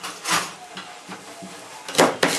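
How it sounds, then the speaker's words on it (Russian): A knife chops an onion on a board in a home kitchen, with a handful of close, irregular knocks and a sharper pair of cuts near the end. "Лук нарезаем."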